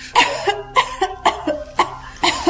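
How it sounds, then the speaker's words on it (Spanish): A close, harsh fit of coughing, about seven rough bursts in quick succession with short breaths between them. "Esa maldita tos no me dejaba leer en paz"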